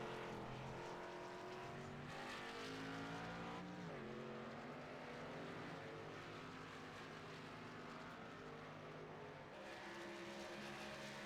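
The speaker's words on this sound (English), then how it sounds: "That car is getting sent around this racetrack at full speed" A race car is driven flat out around a racetrack, its engine a loud, sustained high-revving whine that shifts pitch through gear changes and corners without pause.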